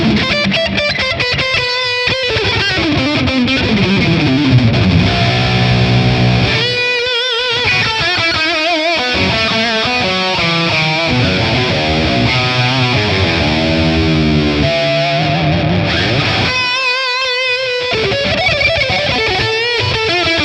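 A high gain guitar amp capture played through a fat tone with plate reverb, loud distorted chords and soloing runs with brief pauses, continuous for about twenty seconds and without voices.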